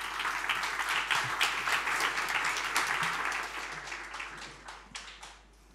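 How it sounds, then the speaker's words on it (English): An audience at a summit panel discussion applauds the panel participants with sustained, fairly distant clapping that gradually fades out over several seconds. "please give a warm round of applause for the participants of the panel discussion"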